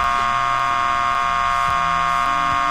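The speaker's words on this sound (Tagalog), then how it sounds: "sino yung busina na yun?" Air horn of a truck in a truck-driving video game (Diesel n Steel) blares continuously, layered tones held steady and loud throughout with low engine rumble beneath.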